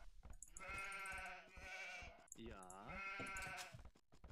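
Sheep bleats in the Age of Empires strategy game, a few wavering nasal calls in succession, fairly clear with no speech.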